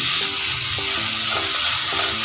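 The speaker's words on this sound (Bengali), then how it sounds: "দু থেকে তিন মিনিট ভেজে নেব" Tomatoes, green chillies and garlic cloves fry in a hot pan with a dense, steady sizzle, close and loud throughout, with no talk.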